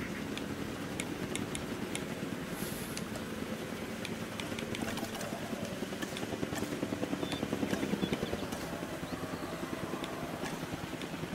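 A transport helicopter in the dinosaur park video game Jurassic World Evolution 2 thrums with steady rotor chop, swelling slightly and then easing, with no talk over it.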